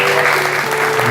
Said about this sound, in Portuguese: Salve de palmas à palavra de Deus.